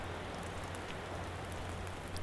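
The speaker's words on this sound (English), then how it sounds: "The rain had just been drizzling," Light rain drizzles steadily in a forest, an even wash of soft patter with scattered individual drops and a low background hum, close and constant throughout, with no voices.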